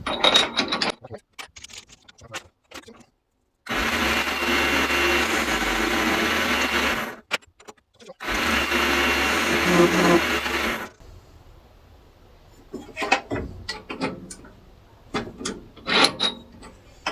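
Hand filing and rubbing on the sawn-off end of a steel pin for a mainsail pulley repair, squaring it and chamfering the edge: two long, steady rasping bursts of about three and two and a half seconds, close and loud, between sparse scrapes and clicks.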